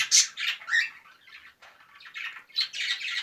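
Budgerigars squawk and chatter in a breeding room, a dense run of sharp, harsh calls overlapping close by with brief dips, no voices.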